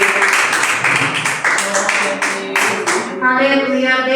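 Church congregation clapping hands during a home worship service, a dense wash of claps with music or singing tones running underneath, loud and steady throughout.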